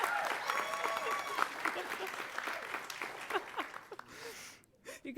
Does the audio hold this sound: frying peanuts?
no